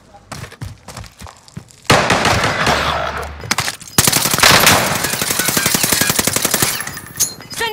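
Rapid SMG gunfire from the video game Warzone rattles out in dense automatic bursts, with a long sustained stream in the second half, mixed with game sound effects and occasional voices.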